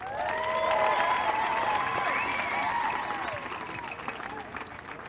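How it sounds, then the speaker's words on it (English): An audience applauds steadily at a surfing competition awards ceremony, the clapping swelling early and then gradually tapering off over several seconds. "So a big round of applause for everyone, please."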